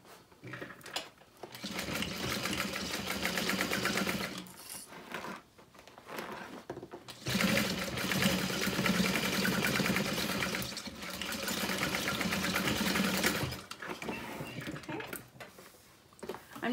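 A sewing machine stitches the curved bottom edge of a Lola handbag, its motor whirring in long continuous runs with short pauses between, close and steady, no voices.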